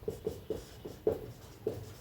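Chalk or marker writing out calculus working on a board during a differentiation lesson, a series of short, close scratchy strokes in an uneven rhythm with small pauses between them.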